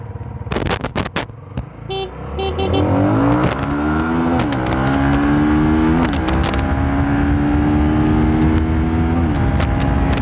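A loaded Nmax scooter pulls away in first gear, racing a Sniper 155 and a Raider 150Fi. Engines rev hard and climb in pitch through repeated rising sweeps, loud and close, with a brief horn toot near the start.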